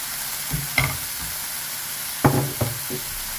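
Chicken pieces fry in a pan for pizza topping, a soft continuous sizzle with a few sharp clinks and knocks of a utensil stirring and scraping.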